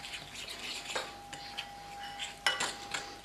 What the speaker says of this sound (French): Et on va fouetter tout ça. Moi, j'ai sorti la petite fourchette.